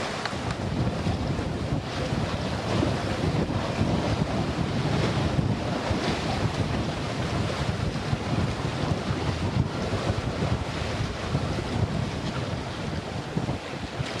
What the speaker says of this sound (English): So we've got about 13 knots of wind.